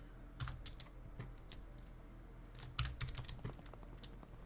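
Computer keyboard typing picked up faintly by a microphone during a livestream: irregular clusters of soft key clacks over a low steady hum.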